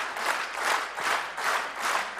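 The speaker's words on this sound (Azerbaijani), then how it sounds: "Tamaşaçılar sizi alqışlarla mükafatlandırdı." An audience applauds at a televised mugham singing competition, a brief close burst of dense clapping that swells and fades in waves.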